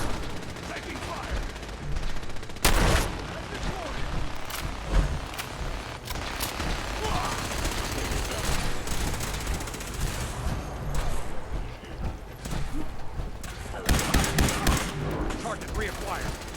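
Gunfire crackles through a firefight in Fallout 4, with scattered shots and a couple of louder bursts over steady background noise, and brief voices heard now and then.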